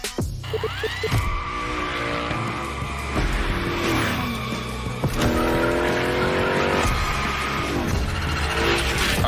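A car in The Crew Motorfest video game slides through gymkhana-style drifts, tires squealing in long rising and falling streaks over a loud engine, with several sharp bursts across the stretch.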